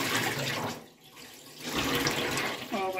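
Starch water poured out and discarded while making homemade tapioca flour, a steady splashing pour into a sink that dips briefly midway, with a voice faintly underneath.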